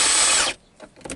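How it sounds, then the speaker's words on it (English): Power drill reaming out bolt holes for a boat steering helm: a loud, high whirring spin for about half a second that stops abruptly, followed by a few faint clicks and knocks. "Just ream the hole out enough to get the bolt through, like so."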